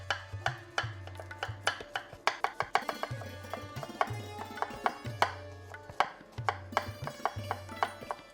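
A knife slices thinly through crisp radishes on a cutting board, giving sharp, quick, close taps in uneven bursts with short pauses between runs of cuts, and no talking.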